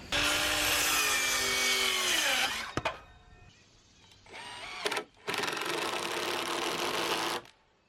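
Wood pieces being sawn for porch steps on a deck build, a loud steady power-saw whine running for a few seconds, a pause with lighter clatter, then a second long cut.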